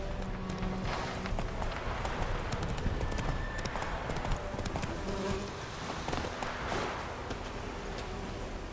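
Roach, a horse in The Witcher 3 video game, gallops with steady rapid clip-clop hoofbeats, moderately loud and continuous, with a brief whinny and game ambience around it and no talk.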